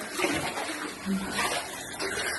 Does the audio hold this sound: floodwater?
yes